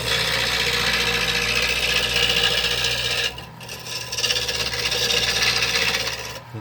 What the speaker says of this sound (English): this is just such nice wood to turn